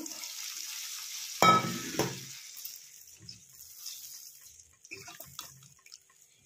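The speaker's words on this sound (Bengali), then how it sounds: "আমি এখানে জল দিয়ে দিলাম" Water poured into a pan of frying potato and cauliflower curry, a loud splash and burst of sizzle that quickly settles into a faint bubbling simmer with small stirring sounds.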